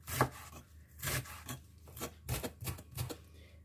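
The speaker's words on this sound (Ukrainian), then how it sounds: "І теж поріжу такими ж самими отакими полосочками, як ми робили все." A knife slices a salad ingredient into thin strips on a cutting board for a hunter's salad, giving about eight quiet, close, fairly even chopping thuds with no talking.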